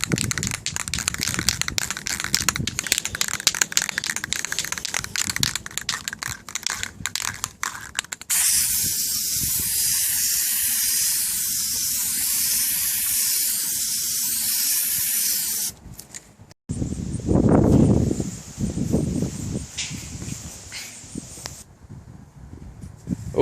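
Armor coat paint hisses from a sprayer onto a Jeep TJ front end in long, loud continuous bursts, with rubbing and handling noises in between and a voice speaking at times.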